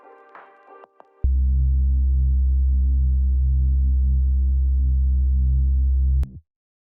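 A hardstyle bass layer, a filtered saw wave combined with a mono sine wave, holds as one deep, steady, loud low tone for about five seconds after a brief higher synth burst, then cuts off sharply.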